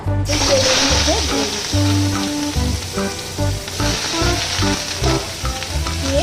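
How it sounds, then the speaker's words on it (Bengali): Chopped onions frying in a pan give off a loud, steady sizzle with occasional stirring scrapes, running throughout under someone speaking. "পেঁয়াজটাকে ভালো করে লাল লাল করে ভেজে"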